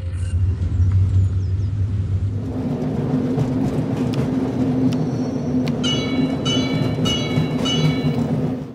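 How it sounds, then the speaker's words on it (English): A video game tram rumbles and hums past at close range, with a low steady drone, screeching wheel squeals and bursts of clanking toward the end. "it was actually very hard to find some useful tram sounds"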